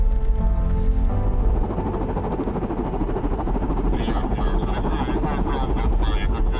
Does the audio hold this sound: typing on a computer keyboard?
no